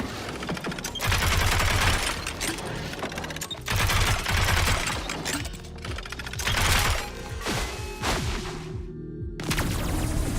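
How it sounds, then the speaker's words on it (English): Nail gun fire and exploding nails in the roguelike FPS ODDCORE, a dense, loud stream of rapid mechanical shots and crackling bursts that continues with almost no break. "So you put nails in enemies and then you can right click to make the nails explode."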